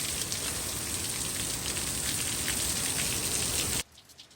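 Steady rain pours down outdoors beside a newly set center fence post with concrete ready, a dense, even hiss that fills the clip before cutting off sharply near the end.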